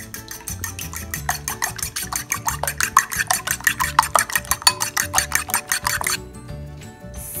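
A seasoned egg mixture with salt and pepper is beaten briskly in a bowl, a fast steady run of close clinking strokes that stops abruptly near the end, with no voices.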